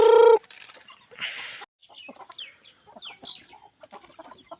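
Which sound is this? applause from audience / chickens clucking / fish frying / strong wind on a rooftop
chickens clucking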